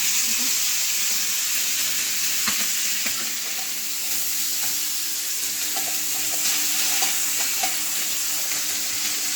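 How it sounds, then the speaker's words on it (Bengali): Chicken pieces fry on high flame in a little oil, giving a continuous bright sizzle with faint stirring knocks and a soft watery undertone throughout. "আর এটা খুব কম তেলেই হালকা করে মানে হাই ফ্লেমেই ভেজে নিচ্ছি"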